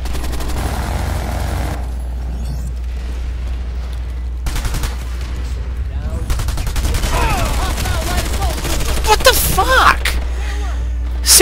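Video game gunfire, rapid automatic bursts and sustained shooting under a steady low hum, growing denser toward the end, with a voice talking over it.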